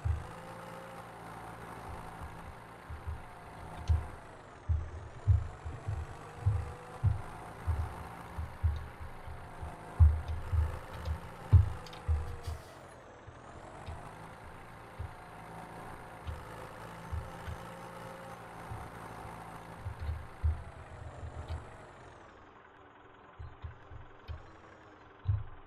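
A tractor engine runs in Farming Simulator 17 with a steady, faint idle. Soft low thumps pulse through it, and the engine note dips and shifts now and then. No one speaks.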